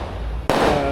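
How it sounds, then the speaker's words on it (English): A single loud firework bang bursts sharply into a crackling spread, part of a Christmas-time celebration near the Colombia–Venezuela frontier, heard close and alone. "that wasn't war, that was just fireworks"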